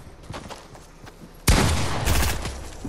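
In a Fortnite match, a sudden loud burst of gunfire hits after a quieter stretch and carries on as a dense rattle of shots to the end, with faint game noise underneath.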